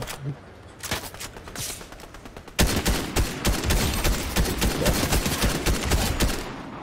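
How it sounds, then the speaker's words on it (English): Rapid gunfire from AI enemies in Fortnite crackles in dense volleys. It starts as lighter scattered shots, then surges into a loud, sustained barrage of overlapping bangs for the remaining seconds. "Oh, the AIs are shooting me still."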